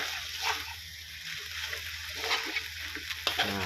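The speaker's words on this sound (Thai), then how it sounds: "จากนั้นก็มาลงกระทะนะครับ" Marinated pork sizzles and scrapes in a hot wok as it is tossed and stirred, a steady crackling hiss with occasional clanks, close up.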